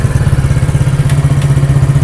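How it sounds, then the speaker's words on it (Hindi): A Hero Splendor motorcycle engine, freshly refitted and running after one kick, idles loud and close with a steady low thumping putter and light mechanical clatter. "तो देखिए बाइक बिल्कुल पहले किक में स्टार्ट हो चुकी है"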